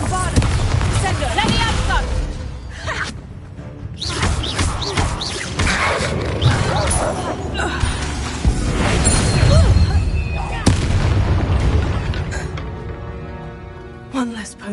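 Booming blasts from Confringo and Bombarda spells in Hogwarts Legacy, several loud bursts and crashes layered over a dense game soundtrack, with speech throughout.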